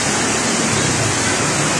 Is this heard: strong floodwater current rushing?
yes